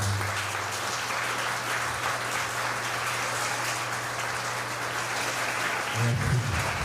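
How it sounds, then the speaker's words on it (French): Warm applause from a congregation at a Catholic Mass for a national children's missionary day, broad steady clapping with a low hum underneath and a voice breaking in near the end. "Je vous invite à applaudir chaudement Monseigneur."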